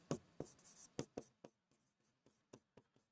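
Notes on heat and internal energy written by hand, a quick burst of close, crisp pen strokes followed by sparser, fainter taps in an irregular rhythm, with no voice over them.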